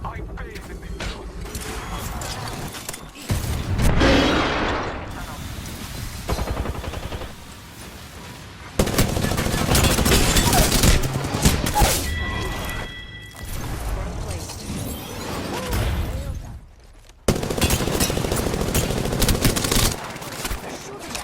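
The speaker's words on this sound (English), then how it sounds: "They're shooting at me" Apex Legends gunfire comes as loud, dense bursts of rapid shots with mechanical clatter, broken by short gaps. Game voices speak over parts of it.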